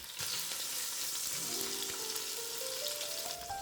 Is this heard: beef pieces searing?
yes